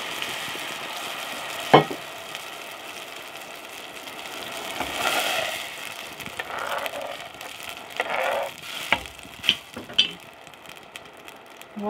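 Chopped onion hitting hot oil in a home kitchen, a crackling sizzle with sharp clatters of utensil against pan and bursts of stirring, moderately loud and close, no voices.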